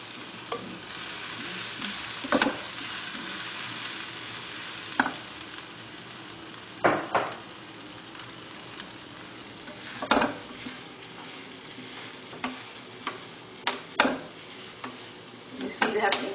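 Couscous with onion and curry leaves fries in a little oil with a soft continuous sizzle, punctuated by sharp scraping clinks as it is tossed and stirred in the pan at irregular intervals.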